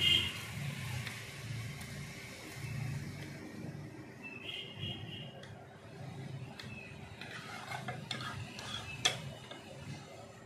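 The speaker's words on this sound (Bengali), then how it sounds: "চাকু দিয়ে কুচিয়ে নেব এইভাবে, একদম কুচি কুচি করে" A knife chops banana blossom finely on a wooden board, its quiet, steady taps repeating in an even rhythm against a faint background hum.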